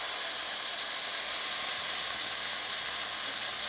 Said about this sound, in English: you're going to want to let it sizzle and everything